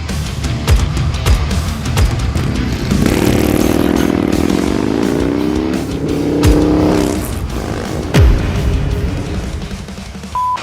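A 2022 Harley-Davidson Low Rider ST with an MHP Stage 2 kit and 485 cam runs loud and close, with a deep, lumpy rumble and a few rising revs.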